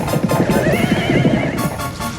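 Horses neighing and galloping for an animated story of Egyptians chasing on horseback and in chariots, a loud whinny over a dense, close clatter of hooves with no talking.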